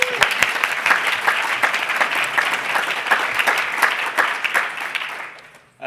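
An audience at a PyData London lightning talk session gives a speaker a loud round of applause, dense steady clapping from a roomful of people that tapers off at the end.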